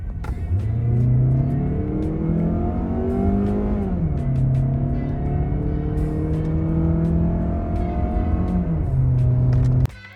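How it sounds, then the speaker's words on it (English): 2023 Mazda CX-30 engine revving in sport mode, close and loud, with rising and falling engine pitch over two sustained revs before cutting off abruptly. "for those of you who are curious as to what this engine sounds like, I took a quick video for you with the car in sport mode"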